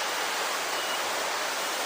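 Curug Genting, a waterfall in Banjarnegara on the Dieng route, roars as a steady, dense broadband rush of falling water, constant and unbroken with no voices.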